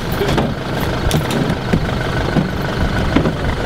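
A vehicle engine drones steadily while driving toward a forward military post, a constant mid-pitched hum with road rumble heard from inside the cab, faint clicks and knocks over it.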